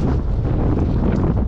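Cold wind blowing across a hillside above Donetsk, a steady, loud rush buffeting the microphone throughout with no talk.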